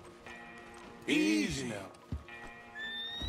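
A horse in the video game Red Dead Redemption 2 lets out a loud whinny, and hooves thud near it. Someone speaks softly before and after the neigh.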